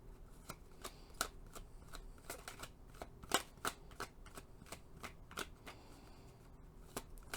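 Oracle cards shuffled by hand during a card reading, a steady run of crisp riffling flicks and soft slaps with sharper snaps every fraction of a second, close and fairly quiet with no voices.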